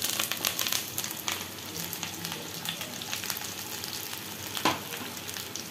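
Jackfruit pieces frying in hot mustard oil, a continuous crackling sizzle with brief stirring scrapes, steady and fairly close without speech.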